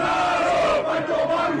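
Palmeiras supporters chant together in a stadium corridor, a loud, echoing crowd song with sustained, tonal voices that dip briefly before swelling again, heard through a played recording.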